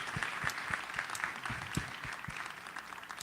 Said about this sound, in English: let's give Gail a round of applause